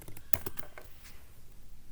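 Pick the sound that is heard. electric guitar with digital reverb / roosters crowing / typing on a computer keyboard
typing on a computer keyboard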